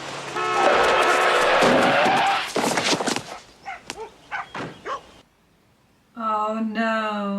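A car skids to a stop with loud, broad tire screech and a rising squeal lasting about two seconds, in the film Back to the Future; speech and a sharp vocal cry follow.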